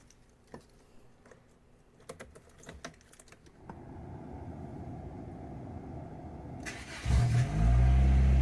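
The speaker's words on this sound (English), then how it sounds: "It's a cold start video." A 1991 Lotus Elan SE Turbo with the M100 engine is cold-started: a few faint clicks and rattles, then the starter cranks, and the engine catches with a loud, steady low idle that rises at the end.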